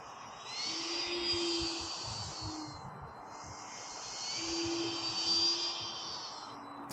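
Propeller drone of an E-Flite Air Tractor RC plane passing overhead outdoors, a whining buzz that swells as it nears and fades away, then returns, over a constant rush of wind.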